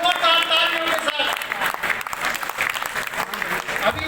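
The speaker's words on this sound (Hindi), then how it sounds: "इस्तकबाल करते हैं जोरदार तालियों के साथ" Loud, dense applause rings through a hall as a crowd at a Delhi Minorities Commission celebration welcomes a chief guest, a sustained clatter of many hands with a voice heard briefly at the start.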